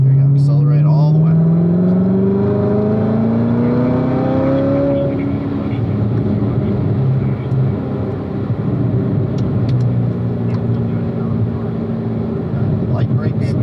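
A race car accelerating on a track, its engine note climbing steadily through a gear then settling into a loud sustained roar that carries on to the end.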